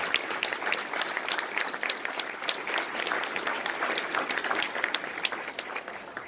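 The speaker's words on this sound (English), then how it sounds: "How about a nice round of applause?" An audience gives a round of applause for award recipients at a valor awards ceremony, with continuous, even clapping from many hands throughout.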